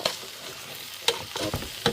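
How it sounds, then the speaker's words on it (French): Carrots and lentils sizzle as they are sautéed in a pan, with scraping stirs and a few light clinks of a utensil, close by and without speech. "je fais sauter des carottes, des lentilles, etc."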